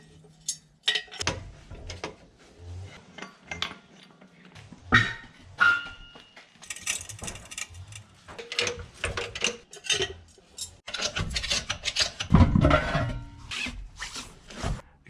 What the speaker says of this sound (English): I'm jacking up the front crossmember so that I can place the axle stand under here, and then jack up the suspension to get the wheels off.